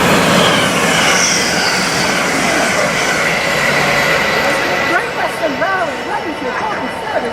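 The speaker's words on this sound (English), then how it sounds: "First Hull trains." A First Hull Trains train at Peterborough station produces a loud, continuous rumbling roar close by. Wavering high squeals rise over it in the last few seconds.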